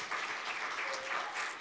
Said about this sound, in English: We can clap for Tongo, yes.